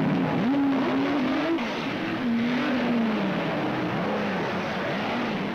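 Race cars, including Ford GT40 Mark II and Ferrari 330 P3 types, roar off at the start of the 24 Hours of Le Mans, engine notes rising and falling in a loud, continuous drone.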